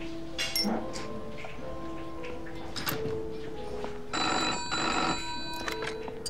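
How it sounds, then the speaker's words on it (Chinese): An old-style telephone bell rings indoors in a wartime spy drama. It comes in short bright bursts over a quiet room, with a few faint clinks and movement sounds around it. "老板， 您电话。"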